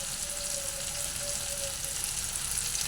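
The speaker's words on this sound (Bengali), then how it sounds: "কালো জিরে ফোড়ন দিয়ে দিয়েছি।" Black cumin seeds sizzle steadily in hot oil at close range, a continuous bright frying hiss with a faint thin tone underneath and no voices.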